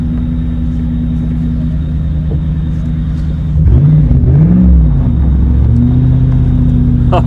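A 1997 Ford Mustang GT with a V8 and five-speed manual idles with a steady rumble, then revs loudly and accelerates hard, the engine note rising and falling through gears close to the microphone.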